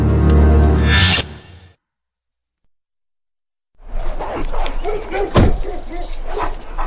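Dogs bark loudly and repeatedly, cut off by a stretch of silence before more barking and thumping resumes.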